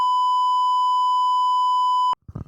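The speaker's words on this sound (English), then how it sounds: "So all you did was just beep" Censor beep on a podcast, a single loud steady tone holding for about two seconds before cutting off abruptly into a brief murmur.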